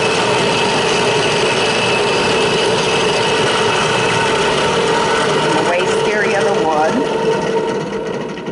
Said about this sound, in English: This is a brad point bit, so the tip of the brad will barely touch the table. And you always do a test drill.